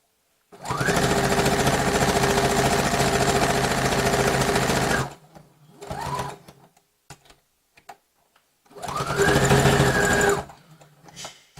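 A domestic sewing machine runs in two bursts, a long steady whir of about four seconds and a shorter run later, close and loud, with brief clicks and handling noises in the pauses.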